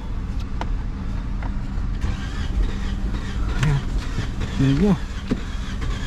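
A flood-damaged Toyota Camry with an A25A-FKS engine, a Dubai taxi with a slight misfire, cranks and catches, then runs with a rough, uneven idle close by as people talk over it.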